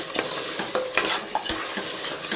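Mutton curry is stirred in a pan after salt goes in, Telangana style, with a spoon scraping and sloshing through the thick gravy in a few quick strokes and a light sizzle beneath, and no voices.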